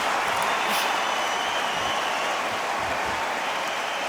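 A large boxing arena crowd before a Shawn Porter versus Canelo Alvarez fight roars in a dense, continuous wash of cheering and applause, loud and sustained.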